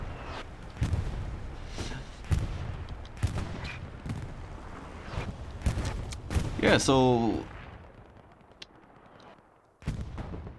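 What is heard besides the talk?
explosions and artillery fire in a video game battle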